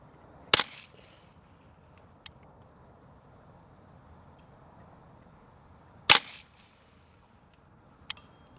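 Rifle shots fired through a Vector Optics Continental 3-18x scope, two loud sharp cracks several seconds apart, each followed a moment later by a faint distant impact tick, over quiet outdoor background.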